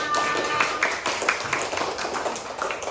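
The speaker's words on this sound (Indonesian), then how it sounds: "Tepuk tangan untuk kita semua" Classroom children clap together after an elementary lesson, a busy patter of small hands with uneven accents, sustained at moderate level for about three seconds and alone, with a faint tonal ping near the start.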